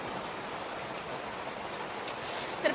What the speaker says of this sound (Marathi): तर पाऊस दाखवते किती मोठा पाऊस आहे.